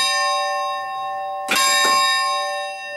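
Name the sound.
steel church bell ringing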